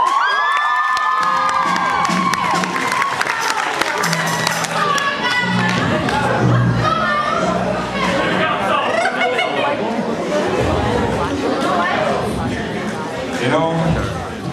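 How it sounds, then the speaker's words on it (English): A crowd at a live band show cheers, shouts and claps for the hosts, a loud, sustained swell of mixed voices and whoops with some scattered applause underneath. "How about we give applause for our fine hosts?"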